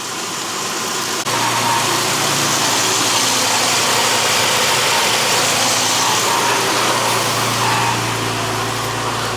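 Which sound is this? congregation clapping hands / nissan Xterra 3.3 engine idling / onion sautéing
nissan Xterra 3.3 engine idling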